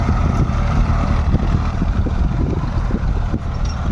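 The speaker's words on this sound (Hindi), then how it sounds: "डबल ट्रैक्टर लगा दिए हैं, घंटों का काम मिनटों में कर रहे हैं।" Two tractors working a field in Chhattisgarh churn out a loud, continuous engine rumble with gritty, irregular mechanical knocks throughout, close by and with no talk.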